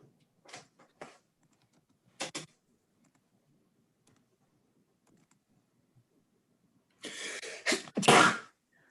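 A person sneezes sharply near the end of a quiet meeting room recording, preceded by a few soft clicks and brief rustles spread across otherwise near-silent stretches.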